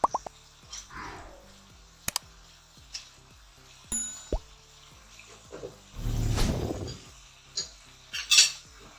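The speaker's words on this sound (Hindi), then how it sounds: "अब इसमें मैं फलियां और दही इकट्ठा डालूंगी" Green beans and yogurt drop into a cooking pot with soft plops, clinks of a metal spoon against the pan, and a brief sizzling burst, heard close and alone.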